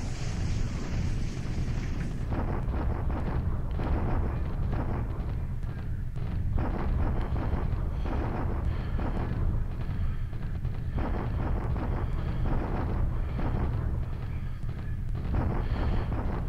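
Naval bombardment in the War in the Pacific strategy game produces a continuous, dense roar of booming explosions and rumbling fire, loud and steady throughout with no pauses.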